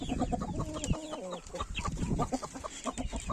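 A large rooster of an Indian game breed clucks nearby in a series of short, low, irregular calls, fairly faint, with soft surrounding farmyard noise.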